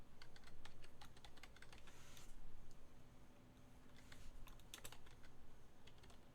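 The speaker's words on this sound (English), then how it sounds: "It feels weird typing in extreme meat into a search engine." Rapid, steady computer keyboard typing, a search being entered, with dense clicking keystrokes and a few louder bursts over a constant low background hum.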